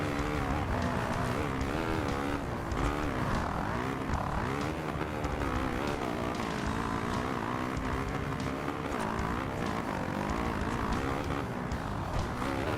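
Motocross bike engine revving steadily in the MXGP 2 video game on the Lommel sand track, a continuous loud droning whine with shifting pitch as RPMs rise and fall, filling the whole stretch without pause.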